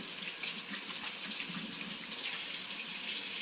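A sink faucet runs steadily during handwashing in a massage therapy setting, a continuous close hiss of water splashing into the basin that grows slightly louder toward the end, with no talking.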